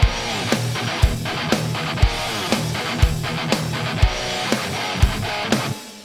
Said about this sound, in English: you end up with a mono guitar that just sits right in the middle